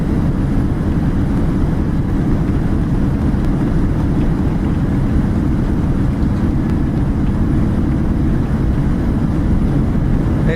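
A Boeing 737-800 in Microsoft Flight Simulator roars steadily with thrust reversers deployed on landing, a loud, unbroken broadband engine rush holding at the same level for about ten seconds with no talk.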